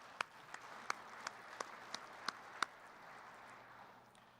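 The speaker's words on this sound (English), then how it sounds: "Give yourself a round of applause." Scattered applause in a conference hall at a closing session, with eight or so distinct claps popping out over a soft, thinning patter that fades away after about three seconds.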